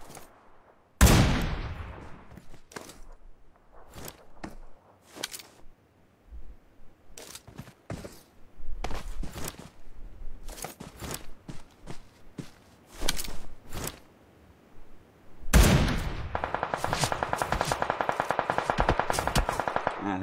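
Video game gunfire crackles in sharp bursts and single shots, some loud and close, others quieter, scattered across the clip with a dense burst near the end.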